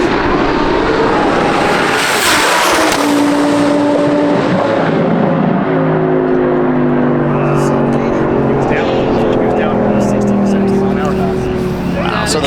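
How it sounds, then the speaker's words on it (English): A Lamborghini drag racing at TX2K 2024, a loud roaring engine blast that surges and shifts through rising gear pulls, close and continuous, with crowd and voices beneath. "That's the first Lamborghini we've seen actually make a pass without braking, and he won."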